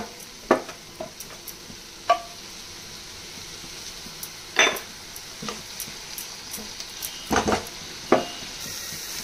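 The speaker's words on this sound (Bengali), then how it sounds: "এবারে আমি দিয়ে দেব ভিজিয়ে রাখা লঙ্কা আর হলুদ গুঁড়ো। এটাকেও একটু ভালো মতো কষিয়ে নেব।" Soaked chili and turmeric powder being sautéed in a pan, with soft background sizzle broken by scattered clinks and scrapes of a spoon against the pan, heard close up and without talk.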